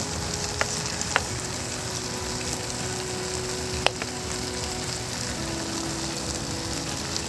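Pancit guisado with bean sprouts and cabbage frying in a pan outdoors, a steady close sizzle with a few sharp clicks of utensils against the pan.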